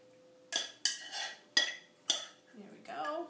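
A utensil spreading spanakopita filling across a metal pan, giving a handful of clinking scrapes and knocks at close range in a quiet kitchen.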